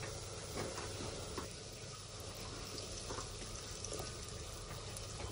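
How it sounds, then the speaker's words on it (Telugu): Okra pieces sizzle in hot oil that already holds fried turmeric, a steady, moderately faint hiss and crackle with no talk. "ఇప్పుడు బెండకాయ ముక్కలు వేసుకుందాం."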